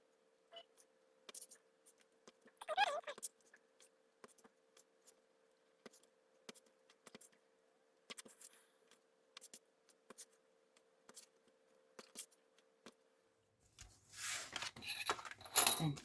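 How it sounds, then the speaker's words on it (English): Scissors make faint, sparse snips while cutting windows out of a paper craft kit. Small clicks are scattered across a quiet room, followed by a louder rustle of handling near the end. "now I'm gonna cut those windows in between"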